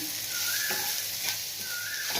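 Small fish frying lightly in a pan with a little salt, a steady close sizzle running throughout with occasional soft stirring scrapes, no voices.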